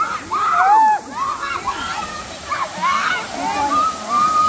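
Rushing water from a waterfall forms a constant splashing wash behind the voices of people talking excitedly nearby.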